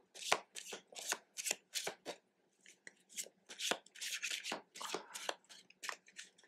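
Tarot cards being shuffled by hand in a series of quick riffling bursts, close and crisp, with short pauses between them and no talking.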